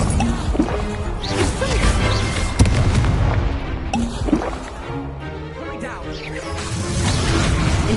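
An Incendio fire spell cast in a Hogwarts video game, a loud burst of booming, crackling blasts with crashing impacts amid other spell effects, while a voice shouts over the action.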